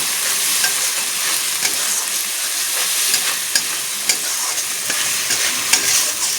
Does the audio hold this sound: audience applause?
no